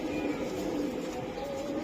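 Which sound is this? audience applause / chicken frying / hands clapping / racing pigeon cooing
racing pigeon cooing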